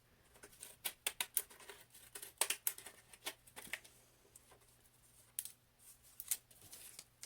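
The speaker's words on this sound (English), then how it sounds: "just pattern scissors" Pattern scissors snipping card stock at a craft table, a series of short crisp cuts in uneven bursts with brief pauses, close and fairly quiet.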